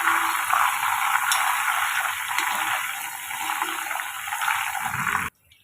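Potato chips deep-frying in hot oil for an Onam sadya feast, a dense, steady bubbling hiss that stays loud and continuous before cutting off abruptly at the end.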